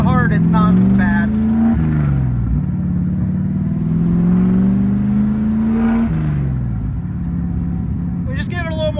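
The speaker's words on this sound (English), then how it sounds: "If I accelerate kind of hard, it's not bad." A drag-and-drive car's engine pulls hard under acceleration, a loud, close, droning roar whose pitch climbs, drops at a shift, then climbs again, with brief talk near the end.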